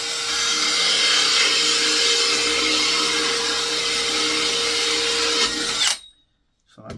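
Power drill boring holes in wood for a swift nest box, a steady high whine running for about six seconds before spinning down and stopping, then brief quiet.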